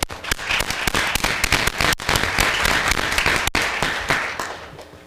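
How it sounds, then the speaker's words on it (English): Loud audience applause at a board of education meeting, honoring a choir: dense, sustained clapping with sharp individual claps popping through, steady for about five seconds with no talk. "And yes, another round of applause for the Sauk Choir too"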